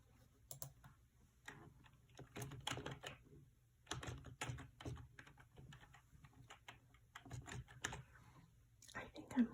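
Fingers type on a computer keyboard in a quiet ASMR interview role-play, close soft clicking in irregular bursts and pauses, with faint whispered or soft talk in between.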